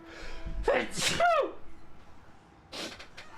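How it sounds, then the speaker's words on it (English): A loud, close sneeze with a sharp intake of breath and explosive release, followed by a brief exhale and a short voice afterward. "I have to sneeze."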